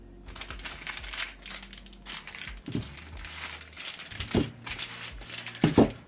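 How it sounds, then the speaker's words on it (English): Plastic wrapping crinkles and crackles as woodworking chisels from a Libraton set are pulled free, irregular close-up bursts of rustling with a few sharper taps of the tools being handled. "Let's just take them out of the plastic."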